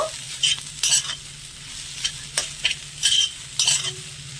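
Jackfruit frying with ground spices, turmeric, garam masala and salt, stirred in a pan. Spaced bursts of scraping and tossing ride over a soft sizzle, close and fairly loud, with no voices.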